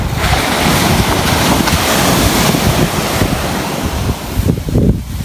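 Sea waves surge and wash along a beach under strong wind, a loud, continuous roar with heavy gusts buffeting the microphone and no voices.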